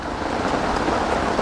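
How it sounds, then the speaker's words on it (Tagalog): Heavy rain at a campsite near Metro Manila pours down as a dense, constant roar, loud and unbroken, with no voices over it. "Grabe, lumakas na naman yung ulan"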